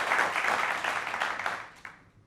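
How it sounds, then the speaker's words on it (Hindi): Audience applause at a live interview event, a dense burst of clapping that holds steady and then tapers off quickly, with no voices over it. "इसके लिए वाकई जोरदार तालियां आपके लिए।"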